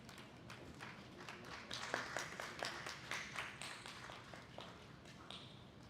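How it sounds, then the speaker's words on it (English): Sparse, quiet clapping from a small conference audience, individual claps rising for a few seconds over a faint room background. "Let the applause keep going."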